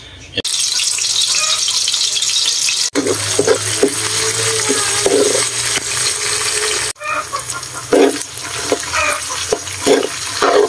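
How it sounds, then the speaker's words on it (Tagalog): Garlic, ginger, onion and tomato sautéing in hot oil in a pan, with a loud, steady sizzle, scattered clinks and scrapes of stirring, and a few sharp breaks where the sizzle cuts off and resumes. "Kapag mainit na po yung mantika, unahin na po natin igisa yung bawang, sunod yung luya, sibuyas, kamatis."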